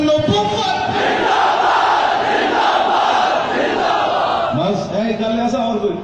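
Large rally crowd in Attock chanting religious slogans in unison, a dense, loud roar of many voices filling the space continuously, with rhythmic surges near the end.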